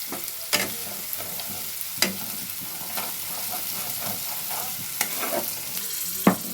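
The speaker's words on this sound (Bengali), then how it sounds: "আমি এই সময় কটা শুকনো লঙ্কা এর মধ্যে মিশিয়ে দিলাম" Onions frying with dried red chillies in a pan, a steady close sizzle broken by sharp spatula scrapes and knocks every second or so as they are stirred.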